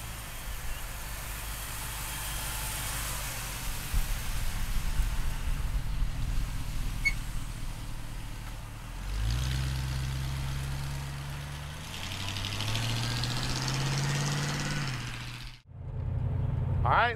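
A 1940 Ford pickup rat truck idles with a low, steady rumble, then the engine rises and falls through a couple of gentle revs before cutting briefly, heard close and moderately quiet.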